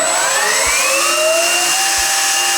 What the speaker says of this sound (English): The vacuum is hooked up, so we're gonna test the suction really quick.